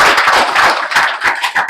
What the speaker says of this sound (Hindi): विवेकानंद के लिए ताली बजा दो